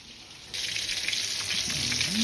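Milkfish (bangus) frying in a pan, a bright steady sizzle that jumps louder about half a second in and holds, with a faint low tonal sound near the end.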